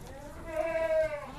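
A goat on a small livestock farm lets out a single drawn-out, wavering bleat at moderate distance over a faint background.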